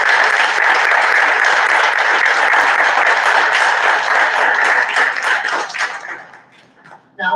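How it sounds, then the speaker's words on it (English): A live audience at a comedy open mic applauds loudly and steadily, dense clapping that fades out near the end before a brief burst returns. "I think we all owe ourselves a big round of applause for surviving"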